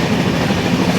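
Jansewa Express 14618 (Amritsar to Purnia Court) running at full speed near 120 km/h after leaving Rajpura, a steady, loud rumble of wheels and rail clatter filling the whole stretch with no voices.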